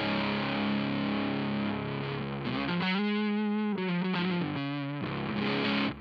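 Electric guitar played through a Mozztronics drive pedal at a Tube Screamer-like setting, fully up: sustained distorted chords that give way to choppy, rhythmic strums, steady and clear with no talking.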